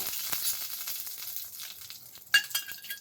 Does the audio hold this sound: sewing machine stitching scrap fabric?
no